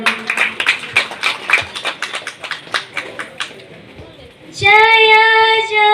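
A small audience claps at a Saraswati Vandana singing competition, a burst of individual sharp claps that thins out over about four seconds, followed by a sustained sung or instrumental tone entering near the end.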